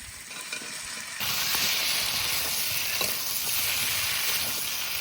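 Already-fried cauliflower and potato pieces hit spiced oil in a pan, setting off a loud, steady sizzle that jumps up suddenly and holds evenly, with no voices.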